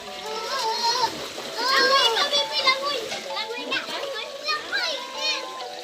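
A child splashing while swimming in shallow water, with steady choppy splashes close by amid lively children's shouts and chatter throughout.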